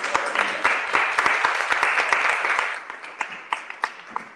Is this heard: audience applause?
yes